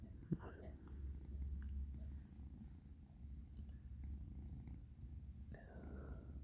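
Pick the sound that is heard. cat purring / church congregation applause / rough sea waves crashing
cat purring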